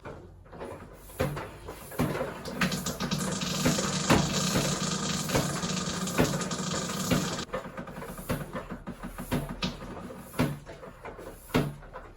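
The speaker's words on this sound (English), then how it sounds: "So I'm going to pump this up a bit more now." A hand pump pushes air into the expansion vessel of an Ideal Vogue combi boiler, giving a steady hiss with repeated rhythmic strokes and clicks, close and fairly loud, with no talk.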